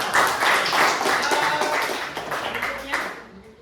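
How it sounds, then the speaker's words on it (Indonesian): Classroom applause for a student group: dense, steady clapping from a roomful of students that tapers off toward the end, with voices talking over it. "Sekali lagi tepuk tangan buat kelompok 8."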